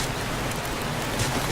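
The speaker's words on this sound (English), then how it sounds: "because of the noise of the rain and the storm, we can't actually hear zombies creeping up on us" Steady heavy rain from a storm in the video game 7 Days to Die, a dense, even hiss with a low rumble underneath, loud and continuous with no voices.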